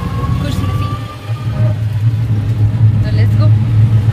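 A toto e-rickshaw rolls along a road in Ranchi, Jharkhand, giving a steady low motor hum and road rumble with faint rattles throughout. People talk over it.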